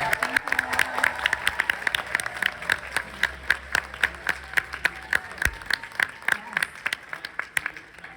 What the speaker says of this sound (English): Round of applause, please, for Kristen